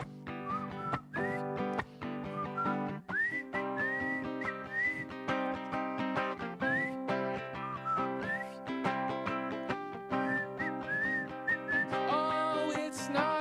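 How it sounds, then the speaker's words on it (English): A person whistles a melodic tune in clear, sustained notes with slides between pitches, over steady guitar and band accompaniment during a live music performance. "There's another whistling part if you don't mind."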